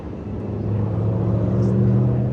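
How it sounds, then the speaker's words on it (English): Steady road traffic rumble from cars passing outdoors near Sunset Cliffs in San Diego, a broad low drone that swells gradually, with a faint airplane mixed into the wash. "You can hear the airplane overhead, the sounds of the cars"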